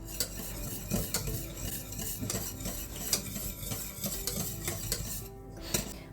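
A spoon scrapes and taps steadily around a pot of thickening custard in quick, continuous strokes, with a low simmering bubble underneath and no talking.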